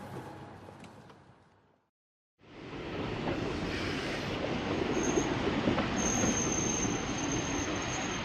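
A commuter train bound for Grand Central Station from Westport rumbles loud and steady after a short silence, with faint wheel squeal rising later over the rolling noise.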